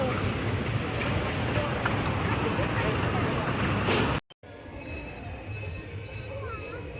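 A loud, continuous rumble and roar of a passing train fills most of the clip at a station, then drops off suddenly to quieter ambient noise with voices.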